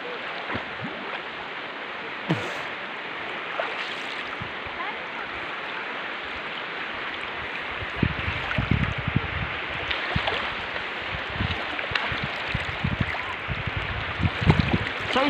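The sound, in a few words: river water flowing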